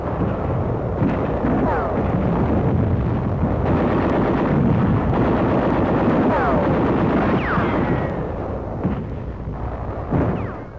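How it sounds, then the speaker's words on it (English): Heavy-caliber mortar fire on Peleliu during World War II, with dull booming blasts and rumbling explosions recurring through a dense, noisy battlefield din, a narrator's voice faintly over it. "Our troops also are being harassed by heavy caliber mortar fire from the Geysebus Island"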